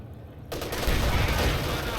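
Rapid machine-gun fire from a Panzer IV in the World War II strategy game Company of Heroes 2 bursts in after a quiet half second and rattles on densely, loud and close, over faint game ambience.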